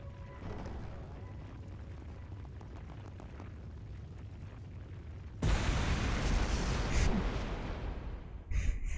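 A sudden, loud explosion in the video game Trails Through Daybreak bursts in partway through after a quieter stretch, followed by a sustained roaring rumble of debris and fire, with a few sharp pops near the end.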